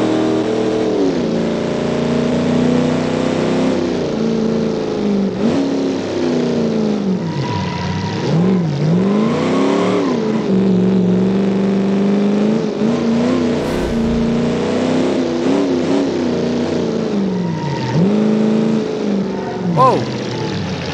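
A classic muscle car engine in the BeamNG driving game drones steadily throughout, its pitch rising and falling as the throttle varies, loud and continuous, with a person talking over it.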